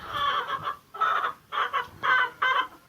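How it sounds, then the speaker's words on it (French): Hens cluck close by in a henhouse with nesting boxes, in a series of five short bursts of clucking, with brief pauses between, no talking. "il y a pas mal de poules qui sont dans les pondoirs"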